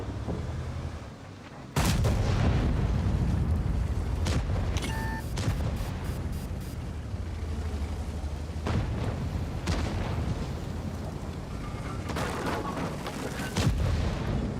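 Heavy tank cannon fire from the Object 705A in a tank battle video game, a loud boom followed by scattered distant shots and explosions over a rumbling battlefield backdrop.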